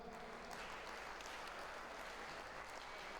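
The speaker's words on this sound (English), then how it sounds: "folks, a massive round of applause for your two finalists." A darts crowd at a tournament final gives a dense, continuous round of applause, steady and distant-sounding, with no break throughout.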